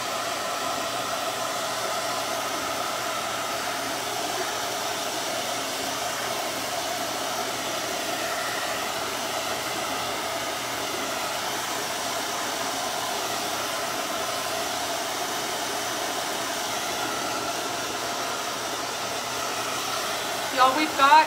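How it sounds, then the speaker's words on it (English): A hair dryer blows steadily and close by for the whole stretch while drying painted gnome yard art, a constant whooshing drone with a slight bump of noise at the very end. "I'm gonna have to blow dry it for just a few and get it ready for me to start outlining it"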